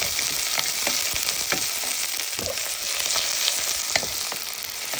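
Browned garlic, onion and ginger sizzle in hot oil in a pan, a dense, close crackle with occasional stirring scrapes and no voices.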